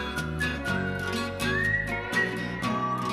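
A person whistles a wavering melody over steady background music, clear and fairly close, with no talking.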